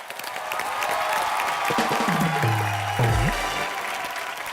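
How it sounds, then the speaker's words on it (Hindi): Studio audience applause on a Hindi TV entertainment show swells into a steady, loud clatter of clapping, with a voice briefly rising above it partway through before the applause carries on. "तो सबसे पहले उसके लिए तालियां"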